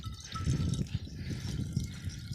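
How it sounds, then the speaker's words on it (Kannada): Water is poured into a container, a soft, continuous splashing and trickling that stays faint and close for a couple of seconds with no talk. "ಅದಕ್ಕೆ ಫುಲ್ ಹಾಕಿ ನೀರು"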